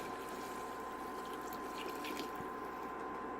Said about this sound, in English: we're gonna put our 2 cups of water to make our rice